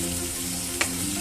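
Spice paste for chitol fish kalia frying in oil with a little water, a steady close sizzle broken by one quick scrape of stirring, no voices.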